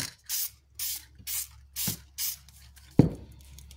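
Short hissing bursts from a spray can painting an RC car's plastic body, five even puffs in a row, then a final louder hiss, close and alone.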